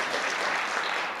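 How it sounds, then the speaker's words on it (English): A crowd at a church testimony gathering claps in a brief, steady burst of dense applause, many hands at an even level with no voices breaking through. "You guys can clap for that."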